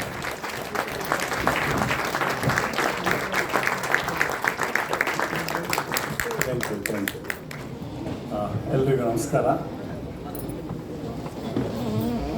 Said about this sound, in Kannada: ನಿಂತು ಒಂದು ಜೋರು ಚಪ್ಪಾಳೆ ಮುಖಿನ ಬರ್ ಮಾಡಿಕೊಳ್ಬಹುದಾ